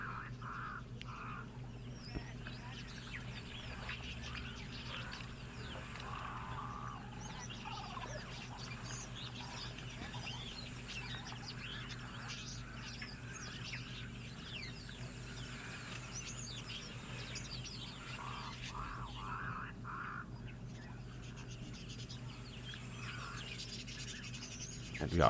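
Mourning doves call repeatedly at a waterhole in Etosha at Okaukuejo in the morning, their soft cooing rising over a constant low hum of background noise for about twenty-five seconds.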